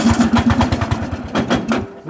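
A Craftsman 13.5 HP riding lawn mower engine is cranked over, giving a fast, even, chugging pulse at close range without settling into a steady idle.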